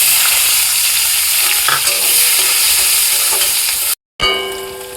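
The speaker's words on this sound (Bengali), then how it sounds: "এবার আমি দিয়ে দেবো কুচিয়ে রাখা পেঁয়াজ।" Chopped onions fry in hot oil with bay leaf and dried chilli, a loud continuous sizzle with spoon scrapes and a metallic clang, cut by a brief dropout before the hiss returns.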